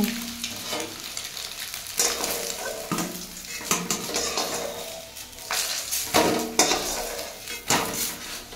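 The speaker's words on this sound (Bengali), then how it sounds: "এদিকে ডিমগুলো ভালো করে ভেজে নিচ্ছি নুন আর হলুদ দিয়ে" Boiled eggs fry in a pan with salt and turmeric, giving a steady close sizzle broken by repeated stirring scrapes and light metal clinks, with no talking.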